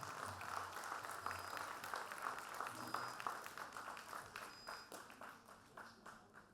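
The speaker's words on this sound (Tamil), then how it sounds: "அங்கே பலத்த கரகோஷம் அவர்களுக்காக." Sustained applause from a crowd honouring guests at a welcome dance event, steady clapping that runs throughout and slowly thins toward the end, with faint voices mixed in.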